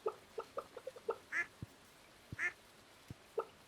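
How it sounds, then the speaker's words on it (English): Ducks in the farming video game Stardew Valley quack in short, soft bursts, several quick calls followed by a few sparser ones, faint and close with no talk. "Oh, I love the little quacks."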